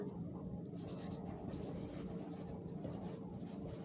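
A pen scratches steadily across paper while a journal entry is written, a soft, close, continuous scribbling heard alone.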